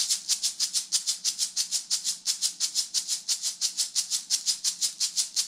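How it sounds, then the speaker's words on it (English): A small bead-filled plastic orange fruit shaker rattles in a quick, steady rhythm, each crisp swish evenly spaced, close up with no talking. "That's a plastic orange. And it's got little beads in it,"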